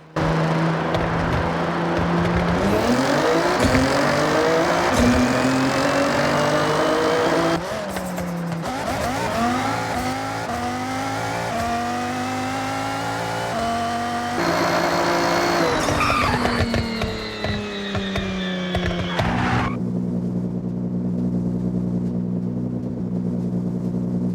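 A Nissan GTR and a Mazda Miata race from an 80 km/h rolling start over a kilometer, with loud, sustained engine roar, rising gear-change sweeps and tire squeal, the revs climbing and dropping repeatedly before settling into a lower drone.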